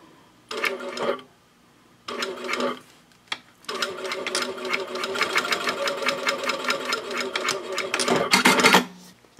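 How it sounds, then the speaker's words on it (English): A home sewing machine back stitches fabric while sewing a wristlet pouch and crossbody bag, starting and stopping in short whirring bursts before settling into a steady, rapid mechanical chatter of stitches, close by. "I am going to back stitch at both ends"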